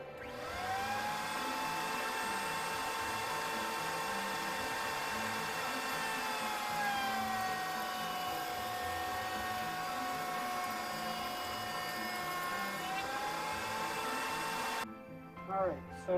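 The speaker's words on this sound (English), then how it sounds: "I've installed my 3/8 rabbeting bit in there, and it's set for 3/8 out and 3/8 up" A router fitted with a 3/8 inch rabbeting bit cuts a rabbet in wood for a display case, a steady loud high whine that holds for about fifteen seconds and then stops abruptly.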